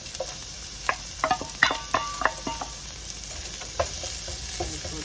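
Onions frying in a little oil in a pan for cabbage rolls, a soft steady sizzle under scattered sharp clinks and scrapes of stirring, with no talking.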